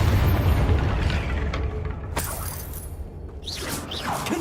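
Confringo spell blasts in the video game Hogwarts Legacy: a loud, dense explosive boom with crackling debris and swooshing magical bursts, rumbling low throughout with a few sharp cracks near the end.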